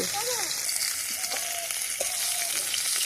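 Fish sizzling in hot oil in a pan, a steady close crackle with a few faint tonal bird-like chirps over it.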